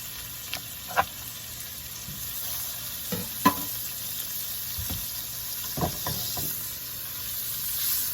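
Butter sizzles softly in a pan with Italian sausage for an omelette, a steady low frying hiss broken by a few sharp clinks and scrapes of a utensil against the pan.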